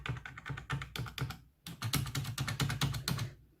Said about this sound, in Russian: пробел самый громкий